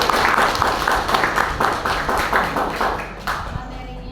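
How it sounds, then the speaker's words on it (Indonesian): An audience at a school teachers' good-practice sharing session claps together, a dense patter of many hands that stays fairly loud and slowly tapers toward the end. "mari kita beri tepuk tangan dulu"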